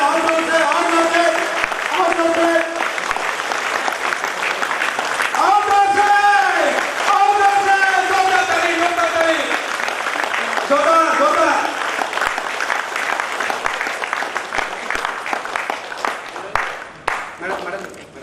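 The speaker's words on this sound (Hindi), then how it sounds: "जोरदार ताली के साथ स्वागत करें।" Loud applause from a seminar audience welcoming a speaker. Dense, sustained clapping runs through the whole stretch and fades toward the end, while a voice speaks over it through the first half.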